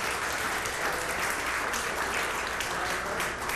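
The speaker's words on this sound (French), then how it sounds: "je vous demande d'applaudir mon amie Myriam pour ce magnifique travail" An audience claps steadily for a woman's presentation at a talk, a dense, even applause with a softer, slightly distant quality and no speech over it.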